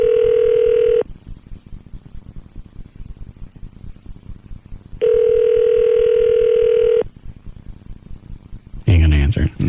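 A telephone rings on a radio talk show line, two long steady tones separated by a pause, loud and close, ending in a brief burst of garbled noise.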